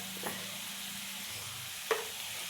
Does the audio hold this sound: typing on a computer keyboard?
no